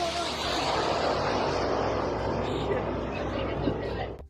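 A military drone flies by, heard as a steady broadband engine drone that stays loud and constant for several seconds before cutting off.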